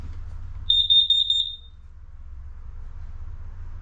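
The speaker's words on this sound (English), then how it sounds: "you're gonna also have gas and a regular fire detector. Make sure you're always testing those." A fire detector alarm inside a 2023 Forest River Salem 31KQBTS RV sounds during a test, giving a rapid run of piercing high beeps for under a second, then stopping against a low hum.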